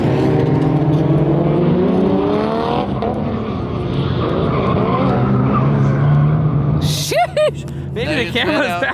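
A drift car spins out at a drift event, its engine note wavering and sliding in pitch with tire noise, loud and close, then breaking off; people talk over and after it.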